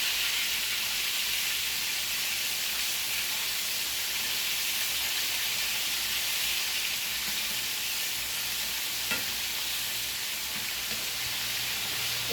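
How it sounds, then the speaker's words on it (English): Chicken pieces frying in hot oil for a family dinner, a steady dense sizzle and crackle that holds evenly throughout with no voices over it. "I'll just finish frying everything"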